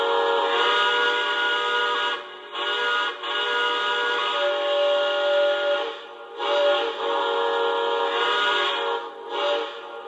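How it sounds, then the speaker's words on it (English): A Lionel Legacy Santa Fe 4-8-4 Northern model locomotive sounds its quillable steam whistle in several long, loud blasts separated by short gaps, the pitch bending slightly within blasts, with no talking. "first off with the quillable whistle."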